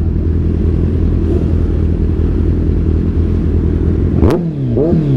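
A loud engine idles with a steady rumble, then revs sharply up and down twice near the end.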